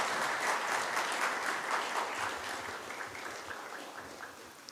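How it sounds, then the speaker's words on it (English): Applause from a graduation ceremony audience honoring graduating students, a dense, steady wash of many hands clapping at moderate volume that tapers slightly toward the end, with no talk over it. "give a really big round of applause to our graduating students"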